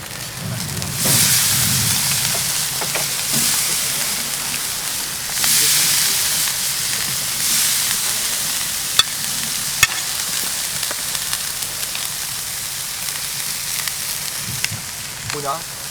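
Boudin sizzling in a hot frying pan while cooking during the grape harvest in Sancerre, a steady close hiss that swells in loud bursts around the start and middle, with faint clatter and muffled voices underneath.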